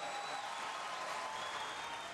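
A crowd reacting loudly to a question at a televised Republican political debate, a dense sustained roar of many voices, heard on its own at moderate level.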